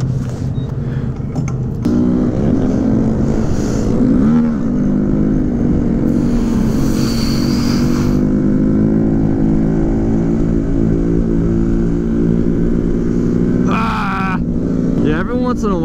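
A rebuilt dirt bike engine drones steadily while riding, holding a continuous mid-pitched buzz with slight rises and dips throughout, and people talk over the engine noise at points.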